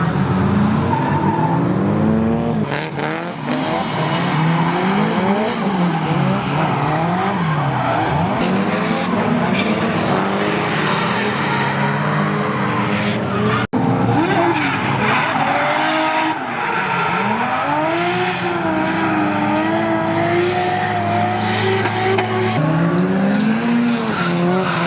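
Drift cars at an all-girls drift day at Nikko skid with long, loud tire squeals and roaring engines, rising and falling as they slide past nearby in a continuous, close stream of noise.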